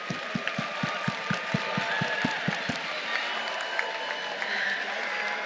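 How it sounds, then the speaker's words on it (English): Robotics teams at a FIRST FRC district competition in San Antonio get sustained crowd applause and cheering in a large arena, with rhythmic low thumps at the start that fade into steady clapping. "Let's have a huge round of applause for all the teams competing here"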